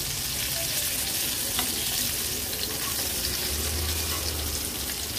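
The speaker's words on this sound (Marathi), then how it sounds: "लो टू मीडियम फ्लेमवर एक बाजू ह्याची फ्राय करून घ्यायची आहे।" Egg-coated bombil fish fries in a pan over low to medium flame, with a dense, continuous sizzle that stays even and close throughout.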